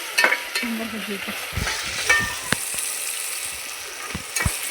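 Ginger garlic paste frying with mutton and gongura leaves in a pan, a steady close sizzle broken by sharp spatter pops and a few spoon scrapes and taps, with no talking.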